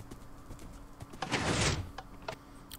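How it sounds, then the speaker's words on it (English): Horse hooves clip-clop in the video game Minecraft, several quick light steps with a brief louder rushing burst in the middle. "I've been out running around for maybe 45 seconds, and I found 4 more horses."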